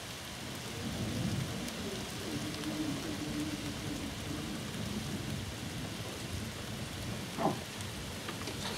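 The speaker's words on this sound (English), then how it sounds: "tropical storm" A big thunderstorm over the Wirral in June 2020: steady heavy rain hisses throughout with deep rolling thunder, and a sharp crack of thunder stands out near the end.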